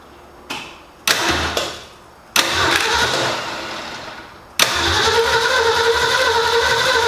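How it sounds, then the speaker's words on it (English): A car engine being started after its fuel system is primed, following a new setup: a few short cranking bursts stop and restart, then the engine catches and settles into a loud, steady idle, with no talking. "We're gonna prime the fuel system, prime the oil while we're doing that, prime the engine, and see what happens."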